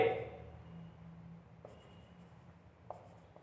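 Chalk or marker writing on a board during an accountancy class, a faint scratchy stroke trailing off at the start, followed by two brief taps a little later, quiet and close with no voices.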